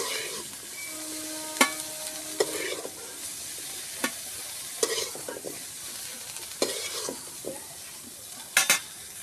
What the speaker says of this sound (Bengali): দেখুন ফুলকপিগুলো ভালো করে ভাজা হয়ে গেছে, এগুলো আমি তুলে নিচ্ছি।